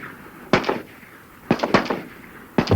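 Rifle gunshots: three sharp, loud reports about a second apart, each followed by a brief rattling, echoing tail, with no voices.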